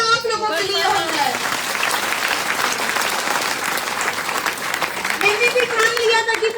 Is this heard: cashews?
no